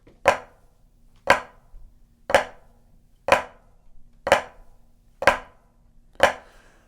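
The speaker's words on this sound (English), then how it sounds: "flam sounds like this" Seven sharp snare flam rudiment strokes spaced evenly about a second apart, each a loud accented stroke with a soft grace note just before it, played alone.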